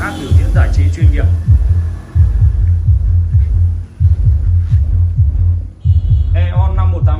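A JBL EON 518S active subwoofer pumps heavy bass in loud, rhythmic booming thumps that keep a steady beat, with a short pause before the pounding resumes.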